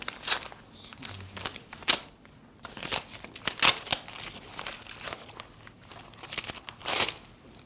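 Paper envelope from Bank of America being torn open by hand, a series of close, sharp ripping and crinkling bursts separated by short pauses, fairly quiet with no speech.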